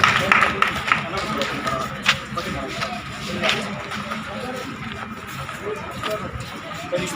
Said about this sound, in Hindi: एक बार चाहूंगा सरपंच साहब के लिए एक बार जोरदार तालियां बजाएं।